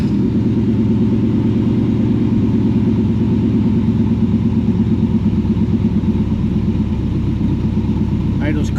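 An old engine on a vehicle just coaxed back to life idles loud and close, with a rough, pulsing rumble and the idle slowly sagging.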